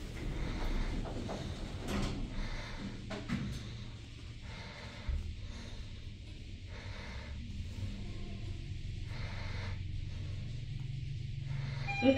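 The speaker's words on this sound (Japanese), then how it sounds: "ドアが閉まります。" A National OTIS elevator at Queen's Square Yokohama, doors sliding shut and the car running, a low steady mechanical hum with soft thumps and faint intermittent sounds throughout.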